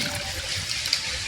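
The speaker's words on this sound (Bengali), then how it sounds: "এইবার আমি মশলা জলটা দিয়ে দিচ্ছি।" Spiced water poured onto fish in a pan for a Bengali lemon mustard-oil fish curry, a close, continuous splashing trickle of liquid with no talking.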